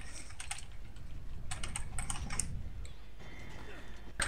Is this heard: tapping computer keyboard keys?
yes